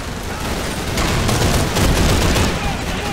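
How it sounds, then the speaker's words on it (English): A light machine gun firing in the video game Call of Duty 3 during a battle on Falaise Road, a dense, loud rattle of continuous automatic fire amid other gunfire. "This is also the best light machine gun in this game."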